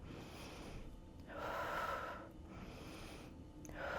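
Breathing in and out during a back and arm strengthening exercise at home, two quiet airy breaths with a pause between them and a third starting at the end, close and soft with no talking.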